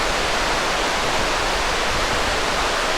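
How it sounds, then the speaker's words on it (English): Brumley waterfall running heavy with water, a steady, loud broadband roar with no pauses or voices. "It's running a lot of water."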